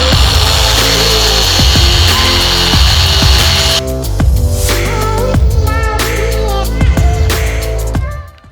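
A power tool grinds the cutting edge of a rotary mower blade, a loud continuous whine close by with repeated ticks and scrapes where the blade meets the tool.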